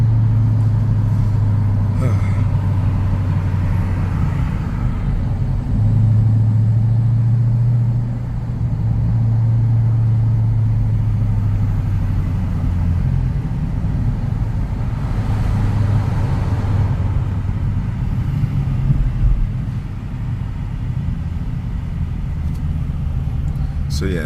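A Mercedes CL63 rolls through traffic with a steady low engine rumble and road drone, its pitch rising and dipping slightly as speed shifts over a long stretch.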